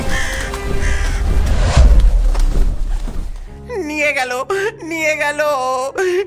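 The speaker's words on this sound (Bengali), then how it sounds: "কাকেরা ঘিরে ধরে ঠোকরাতে লাগলো দুজনকে" Cartoon crows cawing and flapping as they mob and peck at two people, a loud chaotic burst of harsh calls and commotion, followed by a distressed voice crying out.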